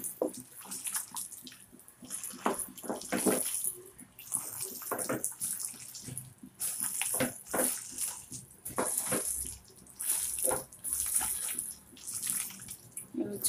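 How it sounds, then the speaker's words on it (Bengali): Hot water is poured into a pot of beef kala bhuna in a home kitchen, coming in repeated splashy, gurgling pours of a second or two with short pauses between them, fairly faint and close. "আমি গরম পানি দিয়েছি।"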